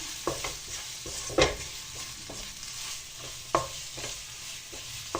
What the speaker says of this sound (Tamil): சிக்கன் மசாலா எல்லா மசாலையும் போட்டு இன்றைக்கி சிக்கன் ரைஸ் ஒரு பருவம் ஆக போகுது இனி இது வதக்கி கொடுத்துக்கலாம்